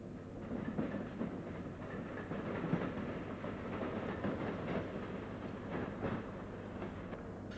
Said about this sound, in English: We arrive at Caledonian Road and Barnsbury as a freight train passes